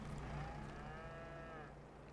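Cattle moo in the farm video game Farming Simulator 22, one long drawn-out low call heard faintly at a distance over a steady background hum, with no talk.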